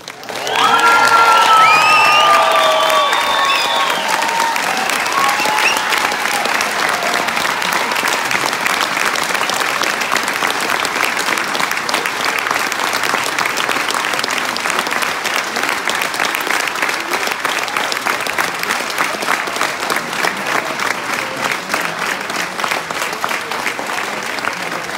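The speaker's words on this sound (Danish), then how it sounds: "han skal have det største bifald overhovedet i Tølløse" A large crowd in Tølløse applauds world champion cyclist Mads Pedersen, sustained loud clapping mixed with scattered cheers that holds steady and dense throughout.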